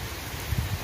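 Rain falling at about five o'clock outdoors while coconut shell charcoal is being made, a steady soft patter with a few heavier drops landing close by.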